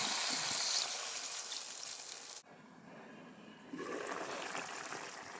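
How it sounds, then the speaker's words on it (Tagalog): Water poured from a glass into a pan of cut galunggong fish with crushed pepper while cooking sarciado, a steady splashing rush that stops briefly and then resumes as a softer stream, close and alone. "Lagyan natin ang isang basong tubig."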